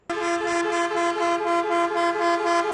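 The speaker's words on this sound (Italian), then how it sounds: "accompagnati dal suono dei clacson" Loud, sustained honking of truck and car horns from a road hauliers' protest blares almost continuously, several horns overlapping with slight pulses, close and with no talking.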